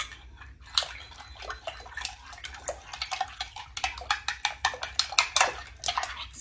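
A spoon stirring yeast into warm water in a bowl makes rapid, light clinking and ticking strokes that grow busier and louder toward the end, with no talking.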